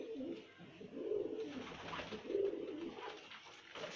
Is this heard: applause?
no